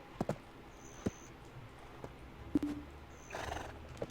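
A horse in the video game Black Desert being ridden toward a stable: sparse clip-clop hoof thuds and small clicks, faint and fairly close, with a short neighing whinny near the end.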